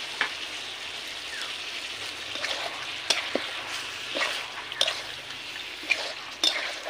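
Garlic sizzles in hot oil in a pan while chicken cooks, a steady crackling fry with a few sharp pops and stirring scrapes, close and alone without speech.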